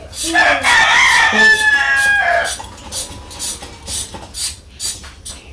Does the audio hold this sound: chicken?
yes